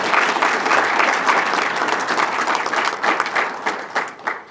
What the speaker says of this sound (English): can I get another round of applause for the presenters tonight?